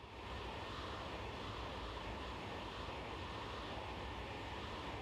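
An F-35 jet engine roars steadily in a flight simulator game, a dense, unbroken broadband rush at constant moderate loudness with no clear changes in pitch.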